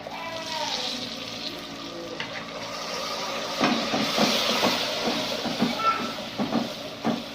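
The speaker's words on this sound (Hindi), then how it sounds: "हल्का सा पानी डाल दें।" A little water goes into a pan of frying chicken curry with red chili powder, setting off a steady hissing sizzle that grows louder and bubbles partway through.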